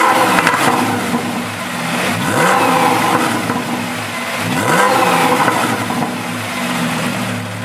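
Porsche 992 Carrera 4 GTS engine heard from inside the car while driving, a loud, continuous drone with two rising revs as the car accelerates.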